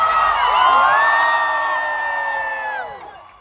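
A large crowd at a Global Village event in Dubai cheers and whoops loudly, with sustained shouts and high calls that swell early, then fade away toward the end.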